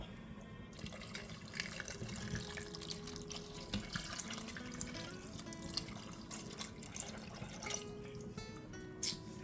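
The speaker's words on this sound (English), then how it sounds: "And then you put the beef broth on top." Beef broth pours over chili or soup ingredients in a pot, making a continuous, faint, splashing liquid rush with small gurgles throughout, close by and without any talking.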